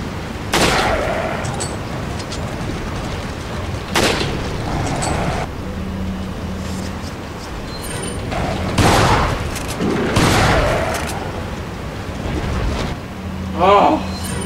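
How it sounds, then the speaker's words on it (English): In the Resident Evil 4 video game, guns fire at attacking dogs: several loud, sharp shots come at spaced intervals over the game's background sounds. "I'm about to shoot some doggos, I'm not gonna lie to you."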